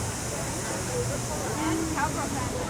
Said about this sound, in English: but the water's running at least